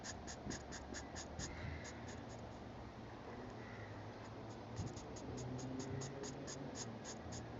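A colouring pencil moving lightly over paper, a quiet series of rhythmic scratchy strokes repeating steadily, close and faint, with no talking.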